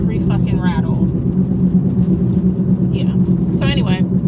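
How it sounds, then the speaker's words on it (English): A Jeep rattling and rumbling while driving, a steady low road drone filling the cabin with faint rattles, as someone talks over it close to the microphone. "My car is a Jeep, so therefore you hear every fucking rattle"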